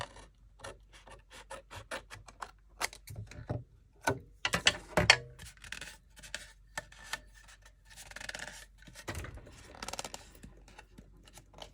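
Scissors trim paper for decoupage in a series of close, quiet snips and rustles, irregular and fairly sparse, with short pauses between cuts.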